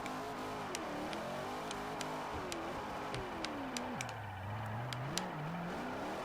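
Chevrolet Corvette ZR1 engine revving and wavering in pitch while drifting in the racing game Forza Motorsport 4, a continuous fairly quiet drone with sharp tick-like clicks scattered over it and no speech.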